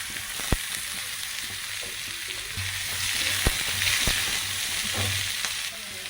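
Onions and green chillies fry in hot oil with cumin seeds while making drumstick-leaf ragi roti, a steady close sizzle with occasional sharp taps of a spoon against the pan.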